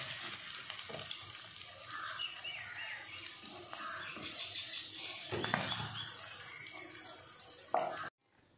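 Pabda fish fry in plenty of hot oil in a home kitchen, giving a steady broad hiss and sizzle. Occasional utensil clatter sounds over it before the sound cuts off abruptly.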